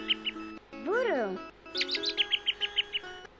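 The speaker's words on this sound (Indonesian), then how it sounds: "Burung." Cartoonish bird chirps and tweets from an educational video game, a quick series of bright repeated calls after a rising swoop, and a voice speaks briefly.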